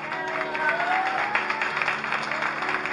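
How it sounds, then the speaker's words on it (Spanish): Lively audience applause at a children's gift-giving event, a dense wash of clapping with some crowd noise, steady and moderately close for the whole stretch. "Fuerte el aplauso para ella."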